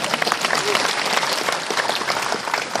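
A large audience at a religious talk breaks into dense, sustained applause, a steady wash of many hands clapping with faint crowd voices mixed in.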